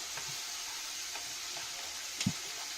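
Masala for street-style Maggi sizzles softly in a pan under a constant hiss. Faint stirring ticks come through, with one brief louder clatter near the end.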